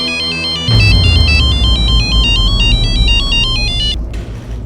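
A phone ringtone plays a repeating electronic melody, loud and close, over a steady low background hum, then cuts off abruptly near the end.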